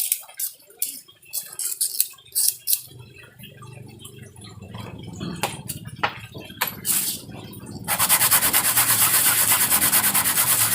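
An RC car wheel rim, cut in two, gets sanded smooth: scattered scraping rubs and light knocks at first, then a loud, steady, rapid gritty rasp of sanding up close for the last few seconds.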